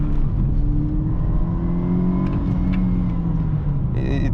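Mercedes-Benz C180 W203, 129 hp with a six-speed manual, accelerating through city streets, heard from inside: a steady loud engine drone rising in pitch, with a faint whine suggesting forced induction, and a brief higher tone near the end.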